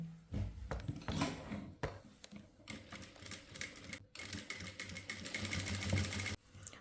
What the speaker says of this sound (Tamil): இந்த மாதிரி மடித்து கொஞ்சம் கொஞ்சமாக தையல் போட ஸ்டார்ட் பண்ணணும்